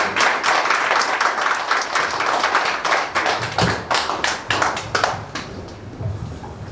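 An audience at a school opening ceremony claps loudly to welcome a speaker to the stage, a dense sustained round of applause from many hands that thins out and fades over the last couple of seconds.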